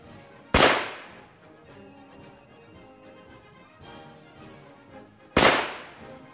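Two sharp, loud gunshots from WWII-era weapons of the Battle of Stalingrad, fired at a log outdoors, spaced about five seconds apart, each with a reverberant tail and quiet in between.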